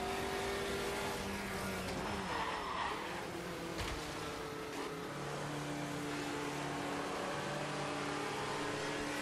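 Puma race car in the sim racing game Automobilista 2, engine droning and revving continuously at moderate level with shifting pitch and occasional tire noise, no talk.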